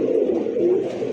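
A Madrasi pigeon coos up close in a deep, rolling, throaty burst, loud and steady with no voices over it.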